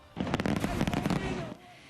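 Fireworks around the world's tallest building in Dubai, a close run of rapid crackling bursts and pops layered over crowd noise, fading out after about a second and a half.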